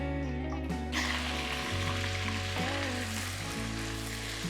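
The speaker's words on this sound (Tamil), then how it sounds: "பச்சை மிளகாய் கொஞ்சம் ஃப்ரை பண்ணுங்க" Green chillies fry in a pan for Andhra gongura chutney, giving a steady close sizzle that runs the whole time beneath background music.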